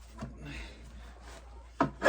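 A wood rasp files and shapes a wooden workpiece, giving a few short scraping strokes, with louder, closer rubbing rasps near the end.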